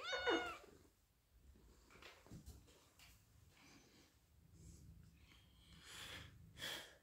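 A cat gives one short, rising meow right at the start, fairly close and clear, followed by faint rustling and soft background noise with no talking.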